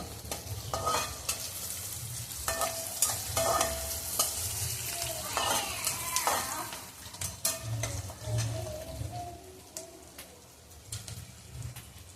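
Onions fry in a pan for a Khandeshi Marathi dish, a soft, continuous sizzle with repeated scraping and stirring strokes of a utensil against the pan, close and fairly quiet.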